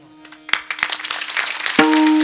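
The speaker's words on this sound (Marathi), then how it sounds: "तुम्ही टाळ्या वाजवल्या म्हणजे तुम्हाला मुद्दा पटलाय." Audience at a humorous Marathi kirtan breaks into clapping that starts with a few scattered claps and builds into steady applause, joined near the end by a sustained tonal instrument.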